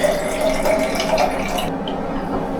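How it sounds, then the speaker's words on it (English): Water sloshing and trickling as photographic film is rinsed by hand in a home darkroom setup without a running tap, a steady close splashing wash that cuts off near the end. "the job is going to be to rinse the film. Because I'm not using a running tap, I just need to do it by hand."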